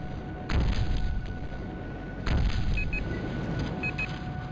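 Blast cannon fire in Battlezone 98 Redux, two heavy booming shots about two seconds apart over a constant rumbling engine drone, with faint electronic beeps between them.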